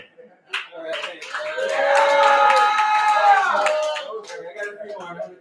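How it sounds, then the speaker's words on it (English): Comedy club audience clapping and cheering after a stand-up joke, a swelling burst of applause with whoops that holds steady for a few seconds, then tapers off into scattered claps and murmurs. "I can't stop with y'all clapping."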